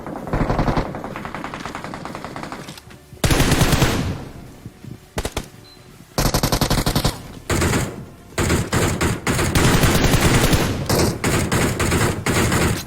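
Sustained automatic gunfire from the BGMI mobile battle game plays in loud, dense bursts of rapid shots, several seconds long and broken by brief pauses, close and dominant throughout.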